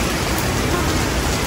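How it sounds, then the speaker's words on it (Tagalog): Heavy rain pouring down on a West Coast morning, a dense, steady hiss of falling water that fills the whole moment without pause. "Ang lakas ng ulan ngayon."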